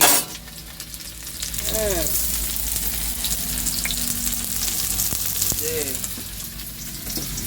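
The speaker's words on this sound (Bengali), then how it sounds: "এখন পেঁয়াজ ভাজা করছি" Onions fry in a pan while meat is cooked inside a vehicle, a continuous close sizzle and crackle with brief voices surfacing now and then.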